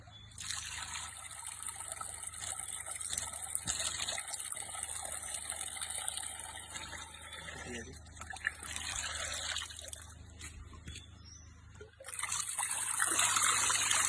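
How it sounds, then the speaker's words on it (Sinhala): Water from a stone spout, a faint continuous trickle that swells louder near the end, with a low steady background hum. "යාළුවනේ තව ලස්සන ගල් කරාමයක් තියෙනවා."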